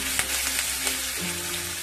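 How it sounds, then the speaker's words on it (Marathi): Curry leaves, coriander and ground green chilli crackle as they hit hot oil for a Nagpuri pudachi vadi tempering, a close, steady sizzle with a few sharper pops and no voices. "बघा अशी फोडणी खूप छान तयार झाली."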